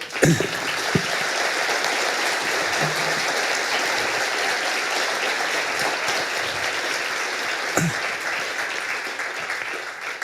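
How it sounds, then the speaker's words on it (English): Steady, sustained audience applause following an evening lecture on world order, dense and even for the whole stretch, at moderate level, with a few louder knocks near the start and end. "I think the applause is bear witness to our deep appreciation of the food for thought that you have given us this evening"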